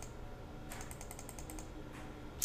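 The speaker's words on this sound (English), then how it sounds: "So I'm just going to start clicking fast." Fast computer mouse clicking, a quick burst of about ten faint, evenly spaced clicks in a row, followed by one more isolated click, quiet and close with no talking.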